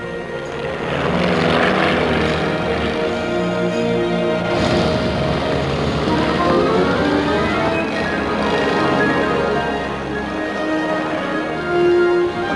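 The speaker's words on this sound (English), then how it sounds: "The engine's making a lot of noise." A loud propeller plane engine drones steadily throughout, with a rough throbbing roar and a whining pitch that shifts midway.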